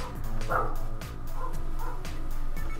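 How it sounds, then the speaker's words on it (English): Dogs bark outside, a run of repeated bow-wow barks and yips heard at moderate distance over a steady background, with no talk during the barking. "Sorry about the dogs barking outside."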